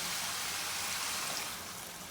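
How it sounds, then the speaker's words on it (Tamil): Water pours into an iron pan of potato pepper fry, a steady, even rushing splash filling the whole moment, close and continuous, easing off slightly at the end, with no voices. "காய் வேகிற அளவுக்கு நம்ம தண்ணி விட்டுக்கலாம்"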